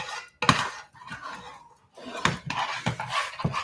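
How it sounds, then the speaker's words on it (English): Spoon scraping and knocking against a pot while hot homemade praline candy is stirred, with a few sharp clinks and rough scrapes in irregular bursts, close and fairly loud. "I'm still stirring."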